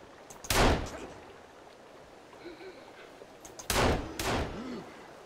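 Gunshots from a laser-sighted gun in the Sons of the Forest survival game, two loud sharp bursts about three seconds apart, each followed by a shorter shot, over a faint background with no talking.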